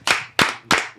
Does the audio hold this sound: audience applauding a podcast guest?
yes